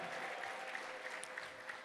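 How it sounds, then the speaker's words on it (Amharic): A church congregation claps in steady, continuous applause that fills the whole stretch at a moderate level, with no voices standing out. "ለዚህ ጌታ እልልታ ጭብጨባ ይገባዋል"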